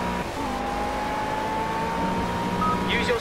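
GT3 race car engine in Project CARS at a Spanish circuit, holding a steady high-revving drone with shifting pitch through a gear change, loud and continuous, with someone talking over it.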